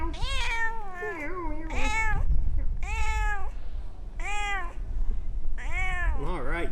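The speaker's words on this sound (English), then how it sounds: "all to the lovely sound of this cat meowing" A cat meows repeatedly up close, five or six drawn-out, wavering calls in a loose rhythm with short pauses between them, over a low background rumble.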